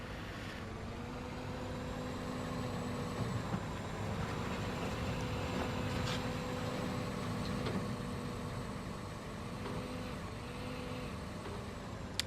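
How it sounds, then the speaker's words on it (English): A truck in the Construction Simulator 2 game on PS4, its engine holding a steady low idling rumble, faint and unbroken, with no talk. "That truck needs to be pulled forward."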